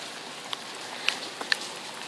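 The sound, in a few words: rain falling outside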